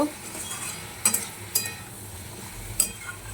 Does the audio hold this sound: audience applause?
no